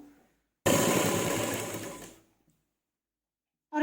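A sewing machine runs steadily while stitching piping along the edge of a dupatta, one continuous burst of about a second and a half that fades out, with silence before and after.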